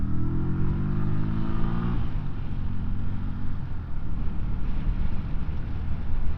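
A QJMotor SRV125 V-twin 125cc cruiser motorcycle being ridden, its engine droning loud and steady throughout with a rising note early on, close and continuous with no talk.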